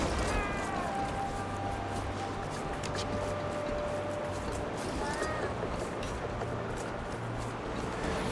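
A cat meowing in the video game Guild Wars 2, several short mews over busy game ambience, while players chat in the background.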